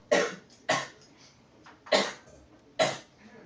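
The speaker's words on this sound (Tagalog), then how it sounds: "Pag umubo, kailangan ng ahem." Four sharp coughs spaced about a second apart, close and fairly loud, with quiet room tone between them.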